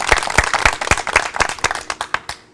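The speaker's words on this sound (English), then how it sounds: "Let's clap, let's clap, let's clap." Group of people clapping in a steady rhythmic beat, a run of sharp close claps that speeds slightly and fades out at the end.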